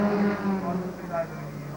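Race car engines drone at the 1993 Gold Coast Indy Carnival Pro-Am race, a steady mid-distance hum with a rising whine, partly under a commentator's voice.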